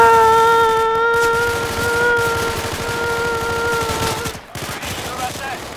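Rapid automatic gunfire in the video game Insurgency crackles in dense bursts under a steady tonal hum, continuing for about four seconds before a short break and a final flurry of shots.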